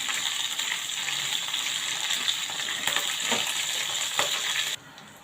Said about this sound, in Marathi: तर तेलावर जरा हलकं परतून घेऊया